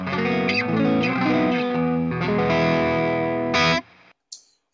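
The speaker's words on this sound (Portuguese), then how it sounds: "Overdrive leve." Electric guitar through a Cuvave Cube Baby mini amp with a light overdrive setting, chords ringing with mild grit and sustain, then cut off, followed by a short squeak and silence.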